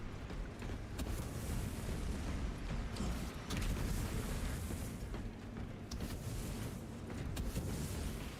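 Video game combat rumbles with several deep booming explosions from grenades, mixed with sharp crackling bursts at irregular intervals, loud and dense with no pauses.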